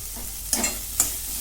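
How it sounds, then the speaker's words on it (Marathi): Samosa filling sautéing in a pan: a steady frying hiss with two sharp spatula scrapes about half a second apart, plus a fainter stir near the end, close and moderately loud. "आता एक पण दोन मिनिटांनी परतून घेते कच्चापणा जाईपर्यंत"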